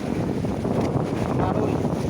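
Strong, steady wind roaring across open sea near Ando Island, a dense rushing noise with low rumble and gusts, continuous and close throughout.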